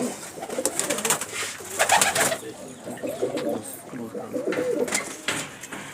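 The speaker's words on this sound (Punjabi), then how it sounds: "ਛਤਰੀ ਵਾਲਾ ਜਿਨ੍ਹਾਂ ਨੂੰ ਆਪਾਂ ਮਲਵਈ ਕਬੂਤਰ ਕਹਿ ਦਿੰਦੇ ਆ ਜੀ" Malwai pigeons of the umbrella-roost type, tournament champions, coo and flutter close by, their soft repeated calls overlapping with wingbeats and rustling throughout, without speech.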